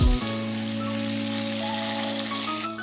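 Paneer pieces frying in hot oil in a pan give a steady, dense sizzle with fine crackling throughout, close up and fairly loud with no voices.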